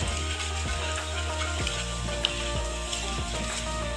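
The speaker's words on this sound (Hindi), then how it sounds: "जीरे को मैं ऑयल में भून लूँगी।" Cumin seeds fry in hot oil in a pan, giving a steady close sizzle with faint crackles and a few soft clicks, with no voices.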